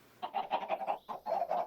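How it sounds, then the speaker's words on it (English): Chickens in a Minecraft farm give a run of short, rhythmic clucks, several in quick succession, then a brief pause before more, clear and close with nothing else around. "And you've got a few chickens in there."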